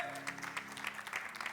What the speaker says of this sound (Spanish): Démosle un aplauso a Cristo